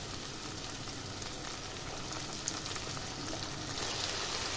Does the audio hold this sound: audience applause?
no